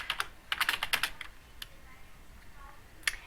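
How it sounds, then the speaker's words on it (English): Someone types on a computer keyboard in quick bursts of close, light key clicks, with pauses between runs and a few final taps. "I'll type in the information that I had researched about solar energy"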